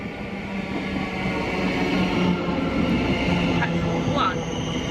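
Continuous rumble and rolling clatter of a train passing through Doncaster station, with faint tonal whines, brief squeals near the end and the noise swelling slightly mid-pass.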